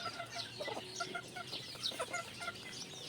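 A brood hen chicken on a game farm clucking in soft repeated calls, close and fairly quiet, with no talk over it.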